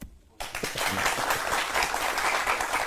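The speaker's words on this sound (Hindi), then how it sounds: "अगर नहीं मालूम थी फिर बजाई ताली।" An indoor audience at a talk bursts into loud, dense applause after a brief quiet moment, many hands clapping steadily and close for a couple of seconds.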